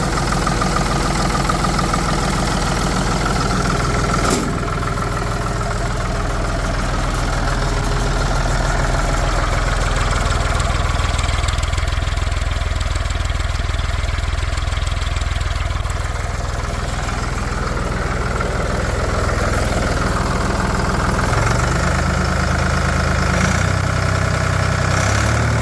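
A 1984 Ford 340A industrial tractor and skip loader engine runs loudly and steadily up close, a dense continuous mechanical roar that holds at full throttle for the whole span.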